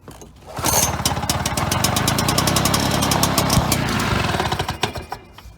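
An old John Deere 12PB lawn tractor cranks with rapid engine clicks, catches and runs roughly for several seconds with loud, knocking, pulsing combustion before sputtering down near the end, heard up close.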